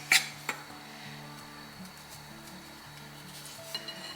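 A spoon scraping and tapping inside a bowl while clumpy onion powder is broken up, soft gritty rubbing with a few sharper clinks near the start, quiet and close with no speech.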